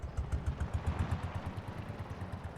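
Farming Simulator 22 oldtimer tractor engine chugging at a low rhythmic idle, steady repeating thumps with a faint clatter, close and alone without talk.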